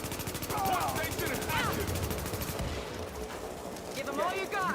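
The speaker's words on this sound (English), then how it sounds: "I'm opening fire." Gunfire from The Division video game crackles in fast repeated bursts under overlapping chatter, game voice lines and electronic effects, fairly loud throughout.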